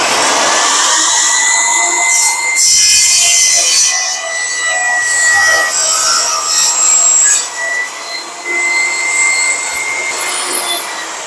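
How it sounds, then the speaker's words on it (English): A table saw whines loudly and steadily as it cuts through a piece of wood, the pitch dipping briefly where the blade loads up near the end of the cut. "And now I'm going to saw it off on my table saw."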